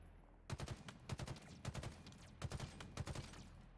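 Gunfire from jackal snipers in the video game Halo Infinite comes in quick clustered bursts of shots, faint and fairly dense.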